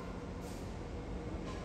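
An SMRT Alstom Movia R151 train approaches a station platform on Singapore's rail network, heard as a steady broadband rumble with a faint high-pitched whine.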